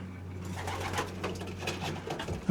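Racing pigeons in a loft aviary coo in soft, overlapping low calls, close and steady throughout, with a faint hum beneath and a brief bump near the end.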